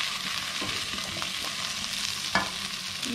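Steak with herb garlic butter and black pepper fries in a pan over high heat, a steady close sizzle with occasional stirring scrapes and one sharp spatter near the end.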